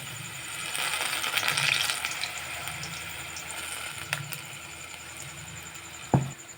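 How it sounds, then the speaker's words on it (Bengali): Ripe jackfruit fritters fry in a wok of hot oil with a soft, steady bubbling sizzle, punctuated by a few faint clicks and a sharper knock near the end. "এইভাবে প্রত্যেকটা ফুলুরি আমরা ভেজে নেব।"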